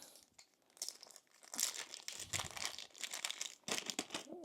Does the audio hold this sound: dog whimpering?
no